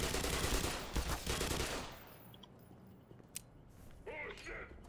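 Gunfire in the game Black Mesa, a dense burst of rapid shots up close that cuts off after about two seconds, followed by quieter mechanical clanks and a voice speaking briefly near the end.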